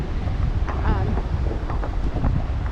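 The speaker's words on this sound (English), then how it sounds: "It's nice and breezy" Outdoor wind on a city street on a summer afternoon buffets the microphone with a steady, loud rumble, while a voice talks faintly underneath.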